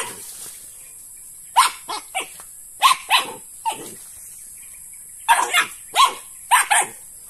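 A dog barks in short, sharp bursts, several in quick succession, pausing then resuming, fairly close against a faint steady hiss.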